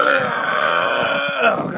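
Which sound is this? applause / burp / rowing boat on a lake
burp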